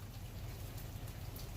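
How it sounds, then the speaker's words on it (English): Rain falling steadily outdoors, a soft, even hiss of drops spread across the whole short stretch with no voices. "it's not gonna let it quit raining"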